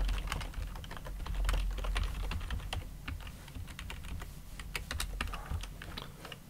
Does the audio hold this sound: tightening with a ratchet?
no